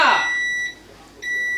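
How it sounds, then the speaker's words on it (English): Electronic kitchen timer signalling that no-knead bread is done baking, giving steady high-pitched beeps in two bursts separated by a short pause, close and moderately loud, with a brief voice-like sound at the very start. "The timer is done."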